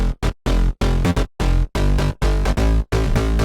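An unprocessed bass section from an electronic track plays in loud, choppy stabs with short gaps between them, heavy and full in the low end and rhythmically gated, with no voices.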